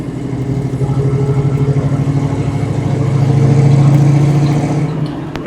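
A 1988 Ford Mustang Saleen convertible with headers, H-pipe and Flowmaster exhaust runs with a deep, throaty exhaust rumble, swelling slightly louder midway as it revs gently, then settling back.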